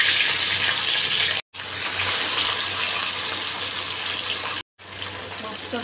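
Rohu fish frying in hot oil for a Bengali fish curry, a steady loud sizzle and crackle that runs nearly continuously, broken by two short silent gaps.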